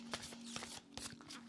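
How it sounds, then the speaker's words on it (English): Tarot or oracle cards are shuffled with a series of quick papery riffles and soft flutters at close range, repeating in uneven bursts over a faint steady hum. "They're stunning, but they are a little complicated to shuffle."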